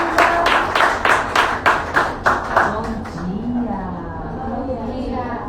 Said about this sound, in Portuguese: Vamos bater umas palmas.